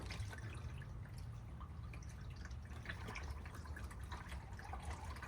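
Fluid drips and trickles steadily during a transmission and oil change on a Volvo XC70 T6 with the early P3 chassis, a continuous close liquid patter with no talk over it.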